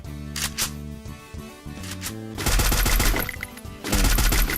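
Rapid bursts of automatic gunfire in a squad-based shooter game, loud and close, with dense rattling volleys that grow heavier toward the end, over game music.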